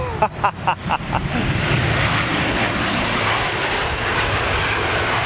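A Gulf Air Boeing 787 Dreamliner departs with a loud, steady roar of jet engines that fills the air, preceded by a few rumbling bursts.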